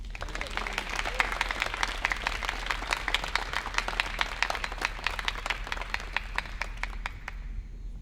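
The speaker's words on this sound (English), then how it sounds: "let's give him a round of applause, Senator Kevin De Leon." Steady applause from a large crowd at a state senators' legislation announcement, dense clapping throughout that thins and fades slightly at the very end.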